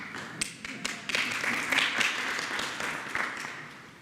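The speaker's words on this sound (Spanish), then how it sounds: "Aplauso." Applause at a Mexican government press conference: scattered hand claps, with sharp individual claps standing out from a quiet, thin spread of clapping that continues steadily.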